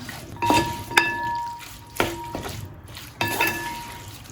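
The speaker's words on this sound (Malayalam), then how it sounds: "ഇനി ഇതിലേക്ക് ഉപ്പും മഞ്ഞൾപ്പൊടിയും പുരട്ടി വെച്ചിരിക്കുന്ന നാരങ്ങ ഇട്ട് കൊടുക്കാം. നന്നായിട്ട് മിക്സ് ചെയ്തെടുക്കാം." Salted, turmeric-coated lemons being stirred into spices in a pan for Kerala lemon pickle, with a few distinct scraping and clinking strokes of a spoon against the pan over a faint background hiss.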